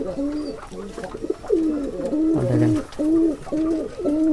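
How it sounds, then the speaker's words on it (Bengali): Repeated pigeon coos, a steady series of low, rolling calls close by, one after another with brief pauses. "এই কবুতর ডাকটা দেখেন"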